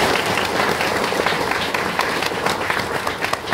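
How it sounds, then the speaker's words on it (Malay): Studio audience at a televised debate on Lynas applauds a panelist, a continuous, fairly loud burst of many hands clapping that persists throughout with no speech over it. "Kita beri tepukan kepada Wakil Presiden"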